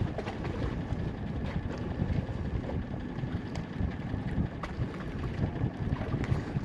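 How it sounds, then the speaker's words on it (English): A strong headwind buffets the microphone on a small fishing boat out on the water, a steady, broadband rushing roar with gusty rumble that stays loud throughout, with no talking. "I got a pretty strong headwind in my face."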